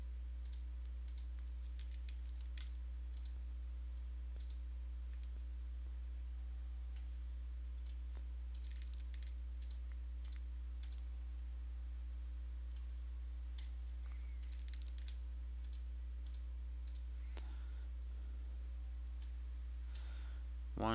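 A computer mouse clicks on download buttons, giving sharp, quiet clicks spread irregularly over a low, steady electrical hum in a quiet room.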